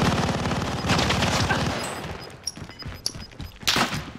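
Video game gunfire in a tournament match: a dense burst of rapid automatic fire at the start, then scattered single shots and a final loud volley, fairly close and with no voices over it.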